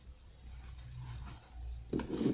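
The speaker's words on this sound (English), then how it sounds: "I'm going to go ahead and shuffle a few more" A deck of tarot cards is shuffled by hand, soft rubbing and sliding at first, then a brief louder riffle near the end.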